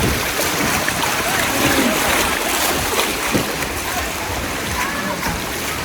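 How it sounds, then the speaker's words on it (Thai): Constant rushing water of a flowing stream in Satun, Thailand fills the air, a dense steady wash heard up close. "เดี๋ยวผมจะให้ทุกคนฟังเสียงลำธารนะครับ"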